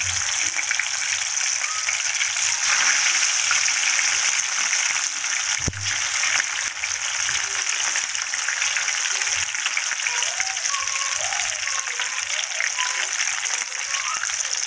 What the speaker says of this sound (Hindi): ये ऑयल गर्म हो गया। अब इसमें शैलो फ्राई करना है।